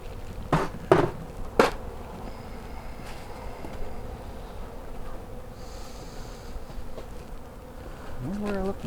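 Honeybees buzz around an opened hive that still holds comb, a steady low drone throughout, broken early by a few sharp knocks and clatters of hive handling.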